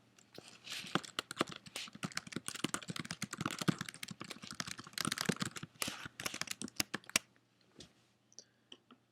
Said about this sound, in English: let's type a little message in here and test it out